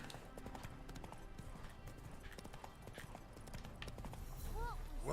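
Roach, a horse in The Witcher 3 video game, gallops with fast, steady clip-clop hoofbeats under game ambience, and a brief whinny near the end.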